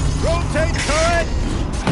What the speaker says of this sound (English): Rotate turret!